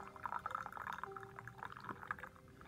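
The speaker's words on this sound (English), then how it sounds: "So tea is ready. We'll pour over here." Tea poured from a Yixing clay teapot, a soft, close trickle of liquid splashing into a cup with a few clinks, steady for under three seconds.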